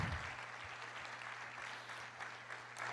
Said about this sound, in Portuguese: Aplauda, pode aplaudir o Senhor.